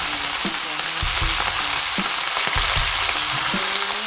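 Lentil dumplings (bori) fry in hot oil reddened with chili for a sour-spicy pickle, a loud, dense, steady sizzle with recurring scrapes and stirring knocks from a utensil.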